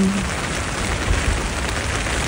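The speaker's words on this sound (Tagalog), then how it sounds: "Nabasa na ako sa ulan." Steady rain falling on succulent plants, a constant hiss of drops with no pauses, moderately loud and close.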